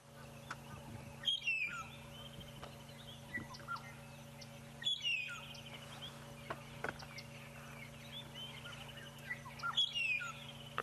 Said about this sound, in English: Can hear a red-chested cuckoo calling in the distance too.